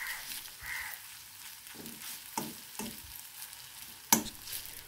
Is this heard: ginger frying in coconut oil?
yes